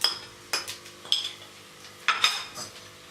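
Whole spices are fried and stirred in a pot for chicken vegetable biryani. A metal spoon clinks and scrapes against the pot in several distinct strokes over a faint, steady sizzle.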